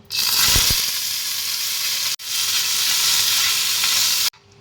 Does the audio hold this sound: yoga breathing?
no